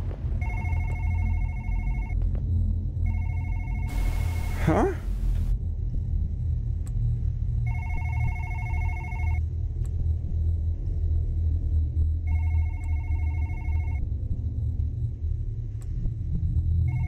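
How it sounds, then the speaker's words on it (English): A telephone bell rings in repeated regular bursts of about two seconds with gaps between them, loud over a constant low rumble, with a brief whooshing sweep partway through. "Where's that ringing coming from?"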